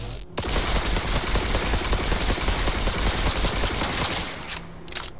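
A tech pistol in Cyberpunk 2077 fires one long, loud, continuous blast lasting about four seconds with rapid dense pulses, then cuts off, followed by a couple of faint trailing clicks.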